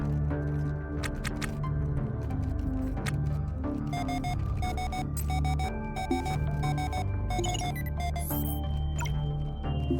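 A shrill electronic alarm repeats over a busy mix of beeps and machine hum aboard a ship in the space salvage game Ostranauts.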